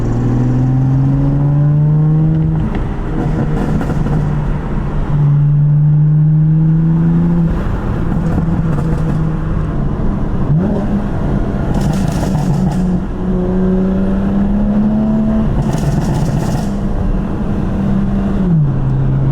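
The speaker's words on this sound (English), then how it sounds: "Sounds super similar to the competition burbles that we tried to mimic earlier." BMW F80 M3 with a Bootmod3 tune driving a lap, its engine droning steadily and loud throughout, with shifting tones as it accelerates and brief crackling exhaust burbles between gear changes; no talking.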